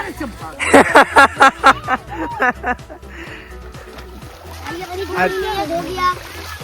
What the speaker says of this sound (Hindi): इसको इस तरह से हिला हिला के धोना है।